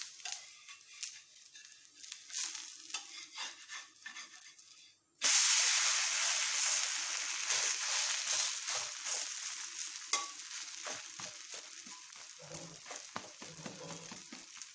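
Yellow pumpkin adai cooking on a pan, a quiet soft sizzle that suddenly jumps into a loud, close, steady hiss, with light scraping and stirring touches over it.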